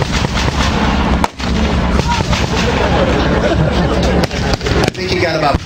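A blank shot booms at a World War 2 reenactment battle at Midway Village, a loud outdoor blast followed by rumbling echoes and crowd noise, with people talking nearby.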